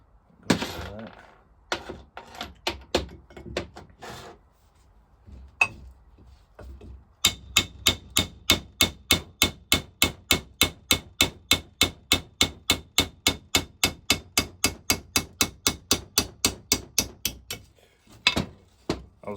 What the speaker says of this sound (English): I was just letting the weight of the hammer do the work.